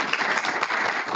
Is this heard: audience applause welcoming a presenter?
yes